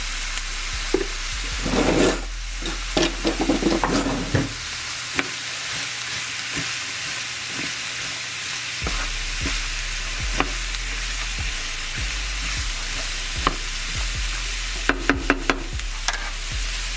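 Onions and celery sautéing in a pan with salt and pepper, a steady soft sizzle broken by occasional stirring scrapes and clinks, no talking.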